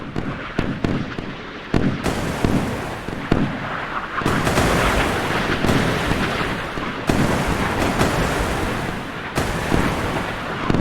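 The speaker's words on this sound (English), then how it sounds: "Huge amount of naval gunnery." Naval gunnery in the Sea Power game as a 1970s Italian cruiser fights Japanese destroyers, with dense rolling booms and blasts overlapping into a loud, continuous barrage and no speech.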